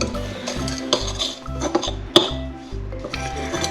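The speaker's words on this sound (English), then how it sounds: "And just mix it through with your knife." A knife works oats and demerara sugar into chopped rhubarb in a dish, giving a run of soft scrapes and taps with an occasional sharp clink against the dish, close up and moderately loud.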